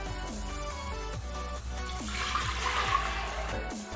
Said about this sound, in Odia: ଆମର ମାଟିର ହାଣ୍ଡି ମୁଁ ବସେଇ ଦେଇଛି ସେଇଠାରେ ଆମେ କିଛି ପାଣି ଦେବା